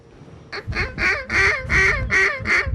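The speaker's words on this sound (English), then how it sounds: "Man, these are a lot of birds flying around." Ducks quacking loudly and close during a waterfowl hunt, a rhythmic series of about seven nasal calls in quick succession, with no talk.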